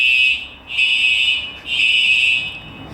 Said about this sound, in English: Yes, that's the fire alarm sound.